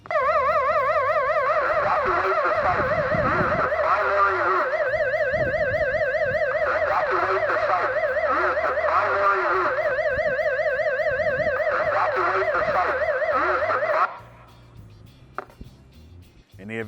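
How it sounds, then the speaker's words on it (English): A site evacuation alarm sounds as one continuous, loud warbling tone lasting about fourteen seconds, with fainter activity beneath it, then stops, leaving quieter background noise. "The alarm consists of one continuous blast with assisting audible instructions and sounds like this."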